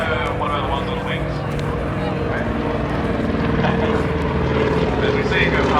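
Propeller aircraft flying past at an airshow in Victoria, Australia, a steady loud engine drone that swells slightly as it passes, heard under people talking nearby.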